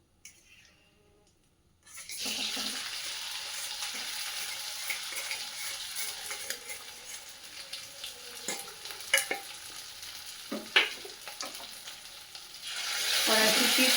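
Potatoes hit hot oil in a kadai with a sudden loud sizzle after a quiet start, then keep frying with crackling as a spatula scrapes and stirs, the hiss swelling again near the end.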